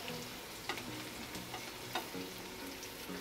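Garlic fries in hot oil for Maharashtrian dal aamti made with toor dal, a soft, steady sizzle and crackle with a couple of small pops and a light stirring scrape, quiet and close.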